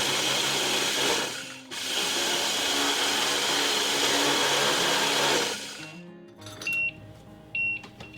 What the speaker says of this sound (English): Okay, that was my timer.